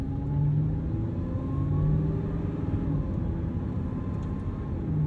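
A supercharged Lamborghini Huracan STO V10 engine drones steadily at idle, a low continuous rumble with a faint tonal hum, close and unbroken.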